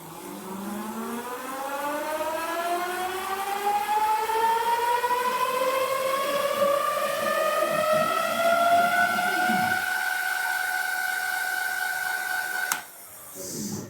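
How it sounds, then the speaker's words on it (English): The hub motor of a Philodo Forester 60v e-bike spins the unloaded wheel, a whining electric tone rising slowly and smoothly in pitch for several seconds before suddenly cutting out. "Let's spin the wheel, see how fast we can get the bike going without any weight on it."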